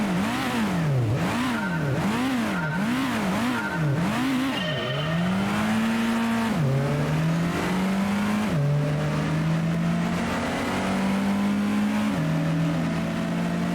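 A car drifting around the corners of a track in Gran Turismo, its engine revving up and down in a steady rising-and-falling pattern, then holding long sustained notes with sharp gear-change drops, loud and continuous with no talking.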